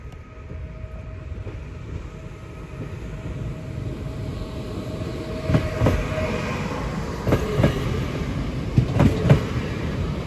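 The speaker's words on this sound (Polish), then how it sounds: "Więc jeszcze uchwycimy tutaj skład na Katowice, gdy będzie wyjeżdżał." Passenger train bound for Katowice departing from Ligota station in the evening, a low rumbling roll heard from trackside that builds gradually, with rhythmic clanks and wheel knocks growing louder toward the end.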